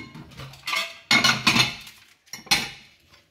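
A fork clinks and scrapes against a bowl while mixing sugar-free oatmeal cookie dough, giving a few loud, close bursts of clattering scrapes separated by short pauses.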